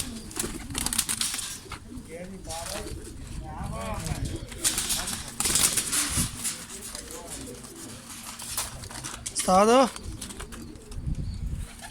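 Pigeons cooing in soft repeated calls with brief bursts of wing flapping during rain, close by, while someone talks over them.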